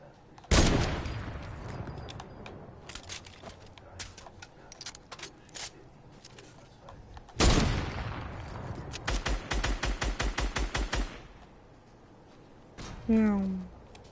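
Video game gunfire: several sharp loud shots and rapid bursts of automatic fire, with quieter single pops between, heard over someone talking.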